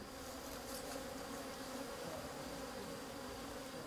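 Bees buzz at an apiary near a bee house in bear country, a dense, steady hum of many insects throughout, faint and continuous with no voices.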